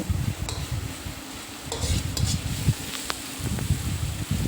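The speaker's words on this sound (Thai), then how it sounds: "เราก็จะผัดให้หอมประมาณนี้" Aromatics for Thai basil mushrooms stir-fried in a pan with a little water give a steady close sizzle under scraping and stirring, with a few light metallic clinks of the utensil against the pan.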